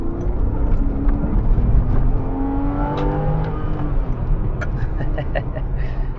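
Porsche Carrera S engine pulls and accelerates from the cabin on the road, a steady mid-level drone that rises in pitch, with no talk over it.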